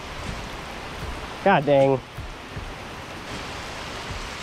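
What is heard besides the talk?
torrential rain downpour outdoors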